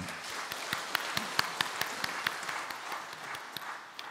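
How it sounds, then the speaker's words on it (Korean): Congregation clapping during a Sunday worship service at a church: steady, moderately quiet applause with scattered individual sharp claps over its full length and no voices. "영광의 박수 올려드리겠습니다."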